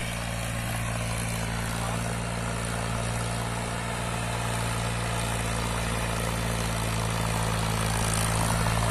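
A Powertrac 439 Plus DS diesel tractor pulls a harrow through a field, its engine droning steadily and loudly without pause, a rough continuous rumble close by.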